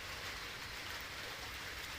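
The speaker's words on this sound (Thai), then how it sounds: "ฝนก็ตกงี้ๆก็เป็นบรรยากาศเนาะ" Steady rain falling, a continuous broadband hiss of drops with no voices, even in loudness throughout.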